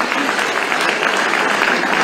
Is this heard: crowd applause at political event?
yes